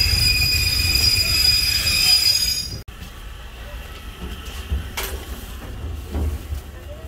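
Ordinary train 277 from Bangkok arrives at Kabin Buri station, its wheels letting out a loud, sustained high-pitched squeal. A sharp clunk cuts the squeal off, and a quieter rumble with faint clanks follows.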